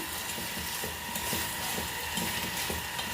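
Curry leaves frying in hot oil in a pan while cooking a dried prawn and cucumber curry, a steady soft sizzle with faint stirring scrapes throughout.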